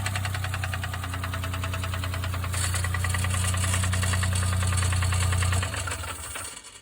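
A Suzuki Jimny engine with a blown turbo runs steadily with a rough, rapid knocking rattle over a deep drone, then cuts off near the end.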